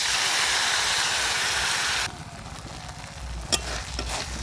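Spice paste goes into hot oil tempered with black cumin. A loud, steady hiss fills the first two seconds, then drops to a softer sizzle, and a single sharp clink follows.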